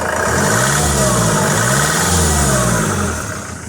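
A diesel engine in a Jaguar X-Type 2.0D with a power-loss fault (code P132B) revs up and holds a loud, rumbling roar with rising and falling pitch, close by, then begins to ease off.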